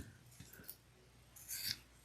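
Scissors trim the seam allowance of a sewn fabric pouch flush to the stitching, a few quiet snips followed by one louder cut, with no talking.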